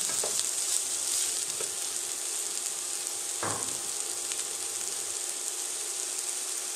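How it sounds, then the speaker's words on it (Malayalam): Ingredients sautéing in oil left from frying fish, a steady close hiss of sizzling with a few light clinks of the utensil against the pan, no talk. "ഈ മീൻ പൊരിച്ച ഓയിൽ തന്നെ എടുക്കാം കേട്ടോ ഇത് നന്നായിട്ട് വഴറ്റിയെടുക്കണം"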